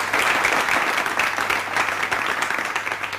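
Applause from an audience at a charity event where donors announce gifts to help needy students, dense steady clapping throughout with no speech.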